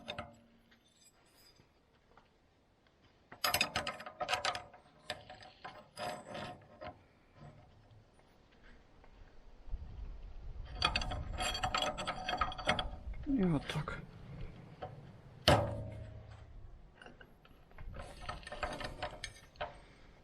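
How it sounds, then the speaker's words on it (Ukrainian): A DIY rebar bending machine, welded straight and running on bearings, bends a steel rod in separate bursts of clunking, ratcheting metal noise with quiet gaps between, fairly close. "Все згинає рівно, тому що приварено рівно, підшипники рівно стоять."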